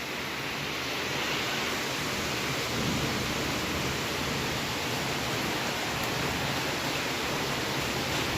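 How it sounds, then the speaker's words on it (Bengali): Heavy morning rain pouring steadily, blowing in through an opening and wetting a floor, a continuous loud, broadband roar with no talk. "কি হাড়ে বৃষ্টি হয়ে চলেছে ছাট আসছে ভালোই মেঝেটা ভিজে গেছে"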